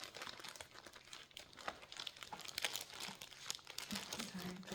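Crinkling of plastic or packaging around a stitching work-in-progress, a continuous dense rustle with scattered sharp crackles, fairly close and steady throughout.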